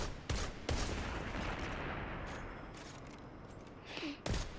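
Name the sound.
gunfire in Destiny 2 video game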